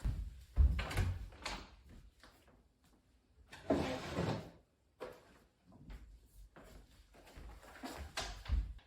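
A junk drawer in a closet is opened and rummaged through: a series of soft scrapes, slides and knocks in uneven bursts with quiet pauses between, close by and fairly faint.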